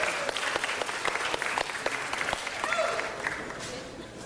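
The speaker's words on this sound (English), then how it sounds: "Let's give her another round of applause." Audience applause at a city council meeting rolls on steadily, with individual claps audible within the crowd sound and a faint voice briefly underneath.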